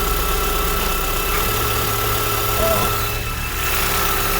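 A car engine idles steadily, recorded with the microphone right under the engine, a loud, close, even rumble with a constant hum and light mechanical vibration; a voice briefly speaks over it.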